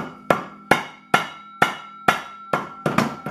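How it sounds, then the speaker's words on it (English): A rubber hammer taps a secondary shaft through a bearing and oil seal, eight sharp, close knocks about half a second apart, each with a short ringing decay, the last few coming faster. "So then take a rubber hammer,"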